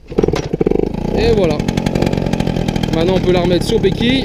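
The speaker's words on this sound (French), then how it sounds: "là les amis, vous avez le bruit de la cartouche RGD" A 1997 Peugeot 103 RCX moped's two-stroke engine fitted with an RGD expansion exhaust runs after a few opening kicks and bangs, settling into a steady buzzing idle, close and loud, with someone talking over it.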